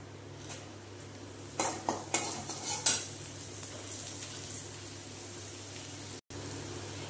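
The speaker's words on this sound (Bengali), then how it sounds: "এইবার এই মুসুর ডালটা দিয়ে সুন্দর করে একটু কষিয়ে নেব, মানে ভাজা ভাজা করে নেব ডালটাকে।" Washed red lentils (masoor dal) frying in a pan, with a low steady sizzle and a cluster of metal stirring scrapes and clinks early on, close and fairly quiet, no voices.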